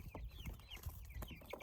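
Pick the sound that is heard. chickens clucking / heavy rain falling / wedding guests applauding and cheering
chickens clucking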